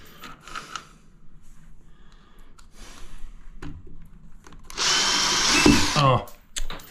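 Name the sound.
power tool trimming down a backing board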